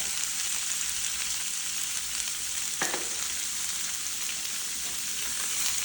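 Sandwich filling fries in a pan with a constant bright sizzle and crackle, broken once by a brief stirring clatter.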